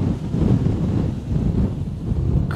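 Strong outdoor wind buffets the microphone during a landscape photography outing, a steady low rumbling roar with gusty swells that runs continuously and loudly for the whole stretch, with no talking.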